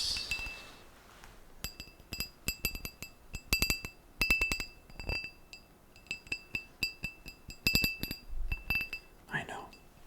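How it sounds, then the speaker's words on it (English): Someone taps and clinks a whiskey glass decorated with leaf patterns, producing a long run of bright, close ringing pings. The strikes come sometimes singly and sometimes in rapid clusters, with soft whispering heard near the end. "to be able to hear all the tiny little details, the details that the whiskey glass has to offer"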